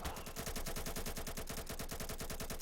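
Rapid automatic gunfire in a competitive video game match, a continuous fast rattle of shots with a steady rhythm, loud and close throughout.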